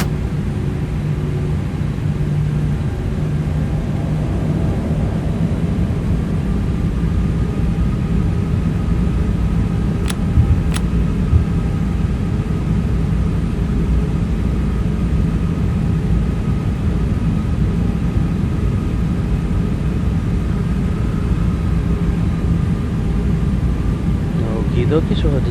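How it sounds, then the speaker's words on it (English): An American Airlines ToLiss A319 taxis out at Miami in the X-Plane 12 flight simulator, its engines a steady, even drone throughout with a couple of brief faint clicks. "so at this point we're taxiing out"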